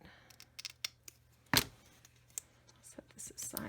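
Scissors trimming paper for a vintage Christmas Z-fold card: one sharp, close snip stands out among faint rustles and soft scratchy handling sounds, with quiet speech around it.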